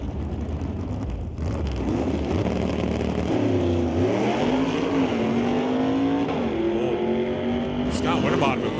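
Drag race cars, a Chevy II and a 1964 Comet, roar off the line with a rising engine drone that climbs in pitch, loud and continuous beneath a race announcer's commentary.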